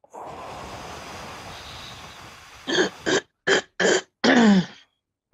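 A run of five short, harsh coughs in quick succession after a long stretch of breathy, rushing noise, loud and close.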